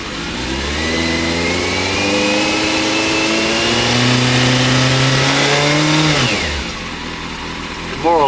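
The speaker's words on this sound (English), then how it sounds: "If I tickle the throttle, it does this." A motorcycle engine with a fuel pump problem revs up with rising throttle, holding a steady climbing drone for several seconds before dropping back quickly to idle.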